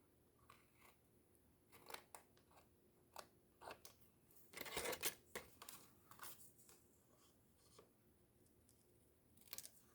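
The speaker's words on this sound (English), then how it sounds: "I'm going to take my smaller scissors and I'm just going to slice." Small scissors snip through card stock during card-making, giving a series of quiet, crisp cuts with sharp, irregular clicks and one longer crunching slice near the middle, with no talking.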